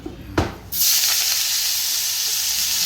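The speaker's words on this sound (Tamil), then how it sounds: "கருவேப்பிலையை கொஞ்சம் வதக்கிப்பேன் நான் இதில் கொஞ்சோண்டு எண்ணெய் விட்டுக்கிறேன்" Curry leaves sautéing in a little oil for curry leaf chutney: a sharp burst as they hit the pan, then a steady, close sizzling hiss that holds without pause.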